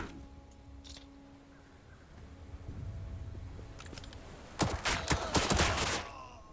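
Gunfire from units in a World War 2 strategy video game, faint scattered shots early on, then a loud cluster of rapid bursts near the end over quiet background rumble.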